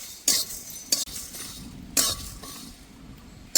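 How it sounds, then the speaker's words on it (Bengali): Coriander, cumin and fennel seeds dry-roast in a pan while a metal utensil stirs them, giving four sharp scraping clinks spaced irregularly over a faint, steady background hiss. "এবারে একসাথে দিয়ে একসাথে ভেজে নেব ভালো করে"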